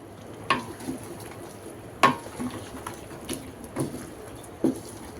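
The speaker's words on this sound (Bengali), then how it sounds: "এখানে আমি মাংসটা নাড়াচাড়া দিয়ে নিচ্ছি" Meat cooked with homemade spices being stirred in a pan, a handful of soft scraping clacks spaced irregularly over a faint sizzle.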